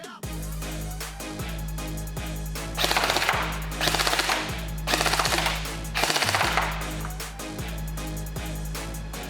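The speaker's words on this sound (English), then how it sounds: "we'll head over to the chrono and we'll actually shoot this blaster so you can see what it's doing through the chrono" An M4 Honey Badger toy blaster fires through a chronograph: a whirring motor hum broken by repeated short bursts of rapid mechanical shots, loud and close.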